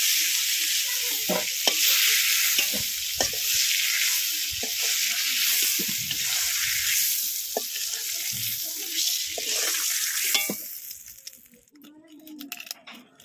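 Whole spices and dry chillies sizzling in hot oil in a pan for a Bengali fish curry, with a steady loud crackle and scattered pops and stirring clicks throughout, easing off near the end.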